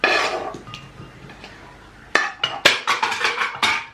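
Pots, pans and utensils clatter down in a kitchen during cooking, a sharp burst of metallic clanks and clinks tumbling in quick succession after a quieter lead-in.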